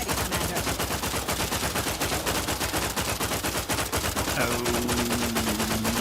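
Continuous gunfire in The Outer Worlds, a steady fast rattle of shots held at moderate level throughout, with a tonal game sound entering toward the end.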